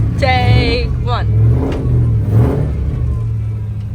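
A Ford Mustang being prepped for drifting rumbles and revs on a test drive, its engine note rising and falling loudly with a whiny, pitch-sweeping tone early on, while a person talks over it.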